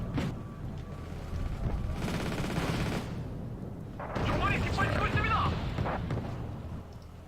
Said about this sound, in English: we got AA fire